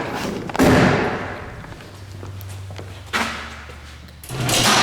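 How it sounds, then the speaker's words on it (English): Overhead garage door opens indoors with a heavy thud, a low mechanical hum while it travels, and further clunks and rattles, fairly close and loud. "So open up the overhead door when you're ready."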